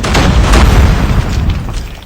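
A loud, rumbling video-game fire bomb explosion with a deep boom and crackling burst, filling the whole clip before slowly fading.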